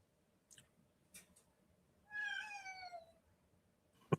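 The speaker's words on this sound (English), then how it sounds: "cat in background. That's my cat, Bandit." A domestic cat meows in the background, a single drawn-out call lasting about a second, fairly faint, with a few soft knocks and clicks before and a sharp tap after.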